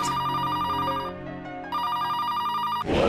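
A telephone bell rings loudly and steadily, with a brief drop in the middle before the ringing resumes, then cuts off into a burst of noise at the end.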